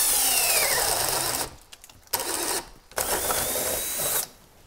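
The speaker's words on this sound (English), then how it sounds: "I'm going to drill through the top plate now" A power drill with a paddle bit bores through a wooden top plate during electrical work, whining loudly and steadily in bursts with short pauses between runs and the motor slowing at each stop.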